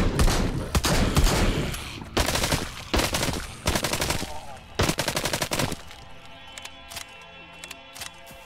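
Repeated gunshots in the Arizona Sunshine zombie VR game, a rapid series of loud, close, evenly spaced bangs fired over several seconds, tapering into a few isolated shots over a quiet background.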